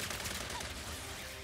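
Gunfire in Ratchet & Clank: Rift Apart, a short, dense rattle of rapid weapon fire that blends into a continuous wash of game noise.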